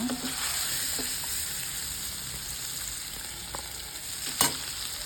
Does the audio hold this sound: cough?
no